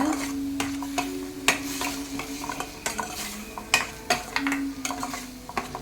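Chilli and big-onion paste being sautéed in a pan for vegetable kurma, a spoon scraping and stirring with repeated sharp clinks against the metal over a low steady sizzle, close and fairly loud, no talking.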